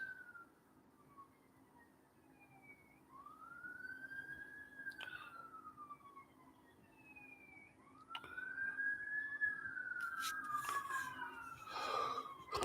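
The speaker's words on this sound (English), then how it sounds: "Now I'm hearing a bunch of sirens outside." Wailing sirens rise and fall in long sweeping tones, distant at first and then louder with several overlapping, over a low background hum.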